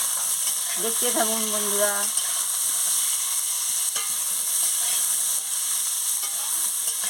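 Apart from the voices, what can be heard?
pointed gourd frying with salt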